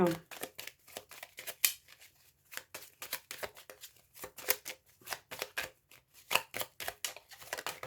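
Tarot cards being cut and shuffled by hand, a rapid series of crisp riffling flutters and slaps close to the listener, repeating in short irregular bursts.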